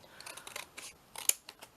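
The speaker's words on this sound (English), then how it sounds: "I'm going to cut this out because I will eventually make" Scissors cutting out paper pieces for a handmade Christmas ornament craft, a quick series of soft close snips and crisp blade clicks, faint and with no talking.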